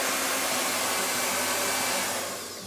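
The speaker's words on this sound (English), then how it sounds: "I'm just going to use a hairdryer and dry my paint." A hairdryer drying paint on a pumpkin blows loudly and steadily at close range, its airy roar easing off slightly at the very end.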